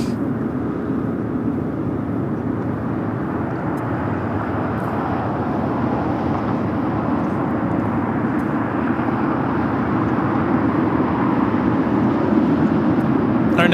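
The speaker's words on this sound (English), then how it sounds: "Our next arrival, United 33 787-9 Dreamliner coming in from Tokyo Narita" United 787-9 Dreamliner arriving at LAX from Tokyo Narita, a continuous broad jet roar holding steady and slowly building in loudness, with faint talk in the background.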